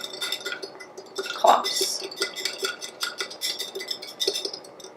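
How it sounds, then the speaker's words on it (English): A small whisk stirs coffee with a splash of water in a glass mason jar, making quick, rhythmic clinks and rattles close up, with a brief spoken word partway through. "I just have a little whisk here, and I'm just going to whisk it all together"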